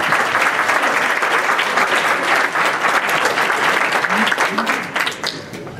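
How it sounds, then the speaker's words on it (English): Sustained, dense applause from an audience at a New York entrepreneurs roundtable event, loud and steady before easing slightly at the end, with faint voices beneath. "Let's give a round of applause."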